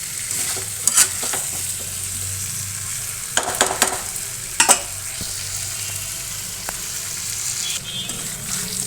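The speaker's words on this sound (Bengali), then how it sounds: "এখন আমি ডিম রান্না করছি।" Egg curry masala cooking in a small wok, a steady sizzle broken by several sharp scraping stirs of a spatula, close and fairly loud, with no talking.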